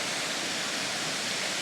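Steady broadband rush of a waterfall beside a river bank, a continuous close hiss of falling water with no breaks or other sounds.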